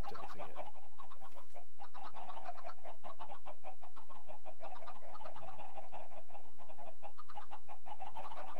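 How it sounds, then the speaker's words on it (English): Chickens clucking in Minecraft, a steady series of short repeated clucks and squawks overlapping in a busy flock, moderately loud and continuous without talk. "So it's just going to fill this up here with chickens."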